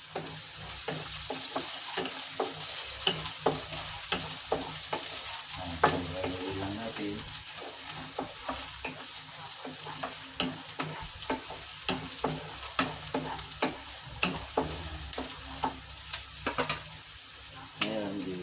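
Sliced onions sizzle and fry steadily in hot oil with garlic in a pan for ginataang tulingan, loud and close, with frequent sharp clicks and scrapes of a spatula stirring throughout, no one talking.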